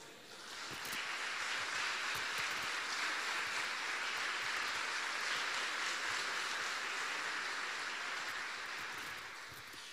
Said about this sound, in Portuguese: Eu achei ridículo as suas palmas.